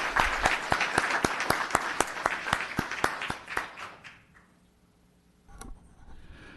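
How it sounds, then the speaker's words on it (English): Audience applause at a town council meeting: a small group claps, with a few sharp, distinct hand claps standing out over softer clapping for about four seconds before fading into quiet room noise. "One more round of applause for Elijah."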